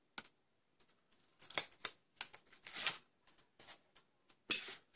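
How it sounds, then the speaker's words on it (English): Adhesive backing strips are peeled off a paper craft gift box, giving scattered crisp rips and rustles close by in short, irregular bursts separated by quiet gaps. "And peel off the backings."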